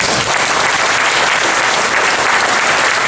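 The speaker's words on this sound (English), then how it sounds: "And a big round of applause for all of our speeches." Applause for wedding speeches fills the room, steady and loud, a dense crowd clapping continuously without a break.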